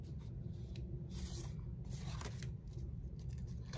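Scissors cut down a piece of card for an envelope, with quiet, close snipping and scraping strokes repeating over a soft background hiss.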